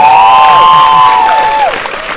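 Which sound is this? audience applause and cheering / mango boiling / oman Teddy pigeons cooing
audience applause and cheering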